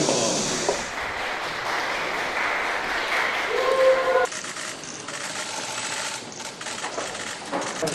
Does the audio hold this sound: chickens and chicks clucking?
no